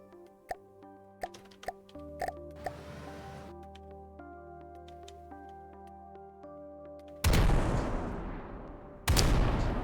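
Warship guns fire in the video game From the Depths on a light cruiser, a string of sharp metallic pops and clicks followed by two loud, broad blasts of roaring gunfire near the end over a steady mechanical hum.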